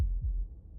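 A low, muffled heartbeat sound effect from the video game Slay the Princess. Soft, deep thumps pulse over a dull rumble, close and quiet, with no other sounds.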